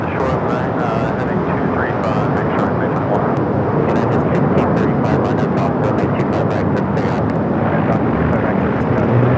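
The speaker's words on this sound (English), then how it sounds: "Emirates making that final turn, heading into the gates of Tom Bradley International Terminal." An Emirates airliner taxis toward the gates of Tom Bradley International Terminal at LAX, its steady engine roar loud and continuous with wind buffeting the microphone, while a voice talks over it.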